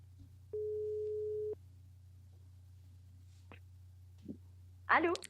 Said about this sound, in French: Voilà, ça sonne.